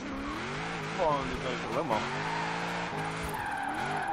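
A car engine drones and shifts pitch while tires squeal through a slide, steady and sustained, with a faint voice murmuring underneath; a Viper drifting in the video game Forza Horizon 4.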